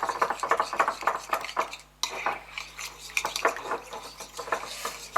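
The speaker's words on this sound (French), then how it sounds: "On mélange, on mélange, on mélange" A spoon or whisk stirring bugnes batter in a bowl, close and busy, with rapid irregular clinks and scrapes against the bowl and a brief pause near the middle.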